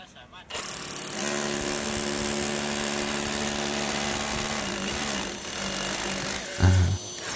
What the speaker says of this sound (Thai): เพื่อนๆจะเห็นได้ว่าแบบ ตัวเครื่องดูดฝุ่นนะครับ จะมีระยะเวลาหน่วงเล็กน้อย หลังจากที่เราเจาะเสร็จเพื่อให้เขาดูดฝุ่นได้เคลียร์จริงๆ